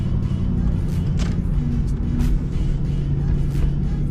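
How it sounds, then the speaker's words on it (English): A New Edge Ford Mustang engine runs close by with a loud, steady low rumble and faint higher whine, holding an even idle throughout. "let me just turn this off and we'll start the car up"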